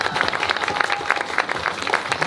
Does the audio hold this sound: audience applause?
yes